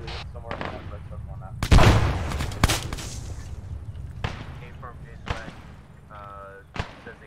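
A frag grenade goes off in ArmA 3 with one loud, close blast and a rolling rumble, followed by scattered sharp gunshots, with voices heard briefly.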